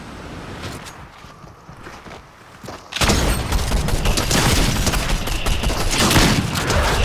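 Dense, loud video game shooter gunfire bursts in at three seconds and rolls on as sustained rapid fire, after quieter, sparser shots at the start.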